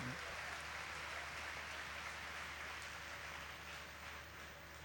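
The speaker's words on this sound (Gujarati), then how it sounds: "તે માટે પણ આપણે ખૂબ જોરથી તાળીઓ પાડીએ" A large audience at a religious gathering at Vadtal Dham applauds in a dense, even wash of clapping that holds steady throughout, heard from a distance and fairly faint.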